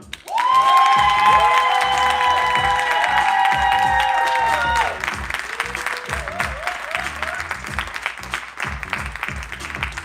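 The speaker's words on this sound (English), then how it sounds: "So I want y'all to give a thunderous clap, okay?" Loud, sustained audience applause at an evening lyrical showcase, dense clapping from a crowd with cheers and whoops rising over it before settling into steadier clapping.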